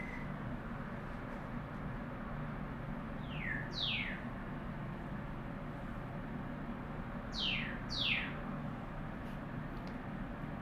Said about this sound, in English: Mia's really good at making bird noises, like songbirds and other birds.